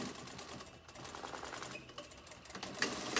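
Sewing machine stitching a pleated cloth face mask with elastic, running in a steady rapid whir with small pauses and a few clicks, close and moderately quiet, no talking.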